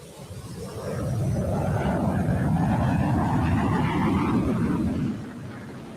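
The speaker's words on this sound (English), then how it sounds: "the diamond roll. All three aircraft fly as one in its graceful 360-degree rolling maneuver." Blue Angels F-18 jets roar past at an airshow during a formation diamond roll, the heavy engine rumble swelling in, holding loud for several seconds, then easing away.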